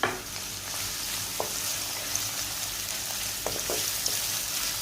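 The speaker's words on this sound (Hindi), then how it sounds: "मसाले को लाइट सा गोल्डन करेंगे।" Whole spices, including black cumin, bay leaves and chopped green chilli, sizzle steadily in hot oil as they turn golden for Punjabi pakora kadhi, a dense continuous crackle with a few soft stirring clicks and no talking.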